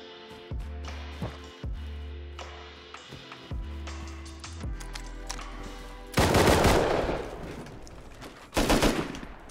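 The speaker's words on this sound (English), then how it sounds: "I had to shoot out the wall to get back in" Automatic gunfire in the video game Rust, fired to blast through a wall: bursts of loud, rapid shots come in two clusters near the end, after a stretch of game sounds and low thumps.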